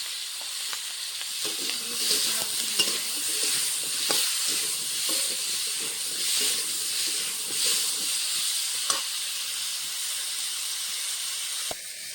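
Small hilsa fish fry in hot oil with salt and turmeric, giving a continuous hissing sizzle. Scattered stirring scrapes and taps sound close up, with no talking.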